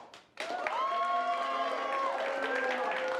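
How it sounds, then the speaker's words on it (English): An improv comedy crowd bursts into loud, sustained applause and cheering after a brief quieter moment, the noise filling the room steadily until the end. "For Bill's movie, applaud now"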